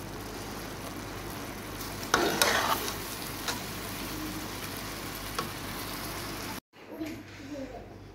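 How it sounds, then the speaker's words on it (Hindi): Zarda sweet rice being stirred and mixed in a pot before resting on dum, a steady scraping and shuffling with a louder burst partway through, close and moderately loud, no talking. "इसको अच्छे से मिक्स करके इसको दम से लगा देना।"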